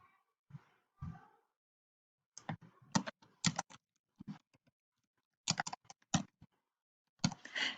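Computer keyboard typing in bursts of quick clicks, close and fairly clear, with pauses between groups of keystrokes.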